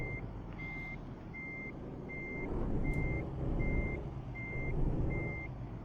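Truck reversing beeper from Euro Truck Simulator 2, a steady series of about eight evenly spaced electronic beeps over a low rumbling engine drone, no talk.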